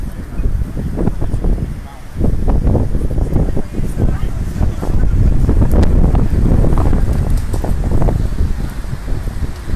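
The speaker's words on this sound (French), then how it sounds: "je suis désolé pour le vent, ça souffle beaucoup" Strong outdoor wind buffets the microphone during a street gathering in Paris, producing continuous loud rumbling gusts that swell and dip throughout.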